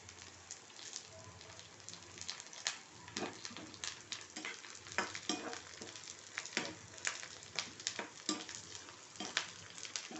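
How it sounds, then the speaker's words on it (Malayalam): Onions and green chillies fry in a pan for a broken-rice upma, giving a steady soft sizzle broken by frequent crackles and pops, with occasional stirring, fairly faint and with no talking. "ആ ഉള്ളി പച്ചമുളകൊക്കെ നന്നായിട്ട് വറന്നു"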